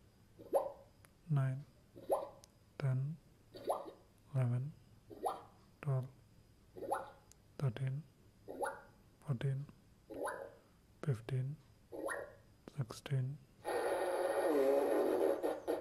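A toy or gadget is made to fart over and over: about fifteen short, separate squelchy blurts in a steady rhythm, each slightly different, close and fairly loud, ending in a burst of broadband noise.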